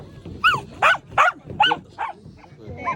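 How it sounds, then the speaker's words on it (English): A dog barks in a series of five or six close, loud yaps with short gaps between them, some breaking into whiny yips. "disrupted by dogs"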